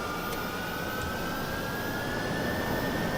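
Jet engines of a B-2 Spirit in Microsoft Flight Simulator 2020 produce a steady, loud roar with a sustained high whine that rises slowly in pitch, continuous and unbroken with no talk.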